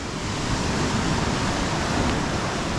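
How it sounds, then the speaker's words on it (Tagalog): Strong sea waves at Colibra Island in Pangasinan, a steady, broad rushing wash of surf that fills the space with constant roar and no voices. "Dahil malakas lang ang alon"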